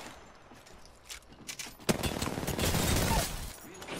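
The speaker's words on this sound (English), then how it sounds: "Airstrike time!" An airstrike in Apex Legends lands as a rolling barrage of explosions, a sharp blast followed by a dense, continuous roar of detonations and gunfire, with a voice briefly over it.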